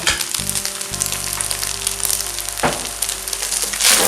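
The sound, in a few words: stir-frying pineapple with soy sauce in pan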